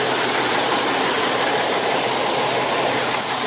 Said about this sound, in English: Sounds like it's got a pretty good clog or a leak in the exhaust